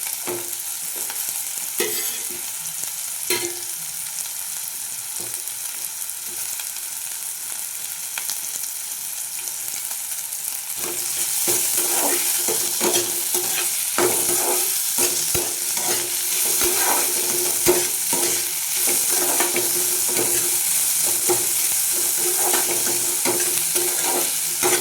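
Pigeon meat fries in a pan with ginger, garlic and leaves, giving a steady close sizzle with stirring scrapes that grows louder about halfway through; no one speaks.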